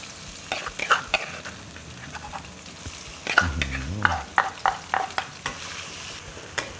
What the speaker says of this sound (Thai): ผัดให้เขาหอมก่อนเลยครับ พริกกระเทียมครับ